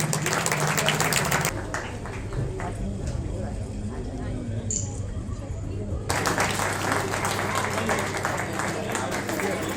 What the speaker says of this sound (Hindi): एक बार इनका तालियों से स्वागत किया जाए